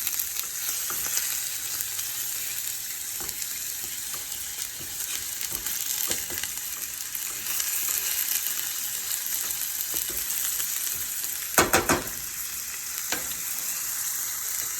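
Food fries in a little oil in the bottom of a pan, giving a continuous close, even sizzle with a few brief clicks near the end. No voices are heard.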